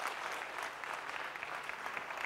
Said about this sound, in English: So if we could just give them a round of applause putting this together